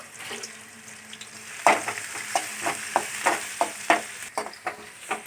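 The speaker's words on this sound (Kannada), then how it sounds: "ನೋಡಿ ಈರುಳ್ಳಿ ಎಲ್ಲ ಫ್ರೈ ಮಾಡ್ಕೊಂತವಳೆ" Onions frying in a pan for egg rice in a home kitchen: a soft sizzle under a string of sharp utensil taps and scrapes against the pan, heard close with no voices.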